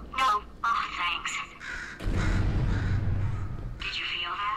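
A bird caws in the video game Portal 2, heard as a few harsh calls in the opening seconds, followed by a loud rumbling burst and more game sounds, with a voice speaking over the top.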